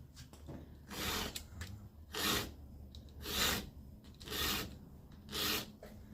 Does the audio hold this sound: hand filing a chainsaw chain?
yes